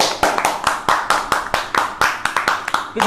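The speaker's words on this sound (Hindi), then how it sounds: "प्लीज प्लीज प्लीज इन सभी के लिए जोरदार तालियां आप में बजनी चाहिए" An audience claps for award winners at an online public speaking competition's result declaration, hand claps arriving in a quick, uneven series of sharp, close strikes, about a dozen across three seconds.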